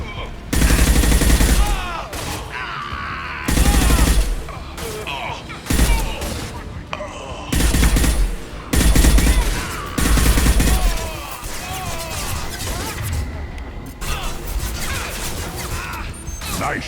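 Mass Effect 2 firefight, loud repeated bursts of gunfire and automatic weapon volleys in several clusters, close and intense, with occasional voices mixed in between the shots.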